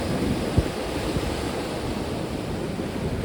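Strong wind roars over the sea on the Danish coast, with steady broadband rushing of waves and wind buffeting the microphone, and one brief thump near the start.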